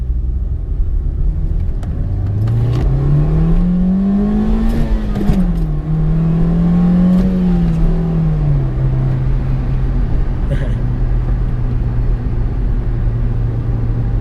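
A 2002 Honda Civic EX Coupe engine revs up under acceleration, its steady whirring drone rising in pitch, dipping briefly as it shifts, then settling to a sustained high hum heard from inside the car.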